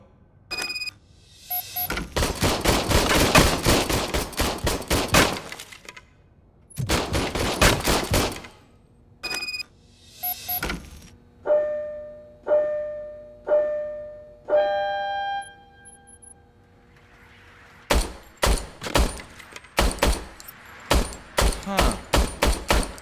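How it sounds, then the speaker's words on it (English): An old police service pistol fires in RoboCop: Rogue City, with rapid bursts of loud, sharp gunshots in dense volleys, then spaced single shots with electronic tones and ringing chimes between, ending in a quick string of separate shots. "I was issued this old gun and serviced it according to the manual. I will try it out."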